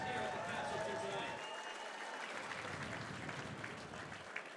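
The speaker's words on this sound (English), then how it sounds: "how about a round of applause for both these combatants going 4 hard rounds here at the Castle tonight" Crowd applause at a combat sports fight night at the Castle, a broad steady wash of clapping and cheering that carries through the whole stretch and eases slightly toward the end.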